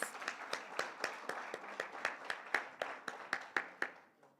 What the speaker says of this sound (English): Give the young man another round of applause.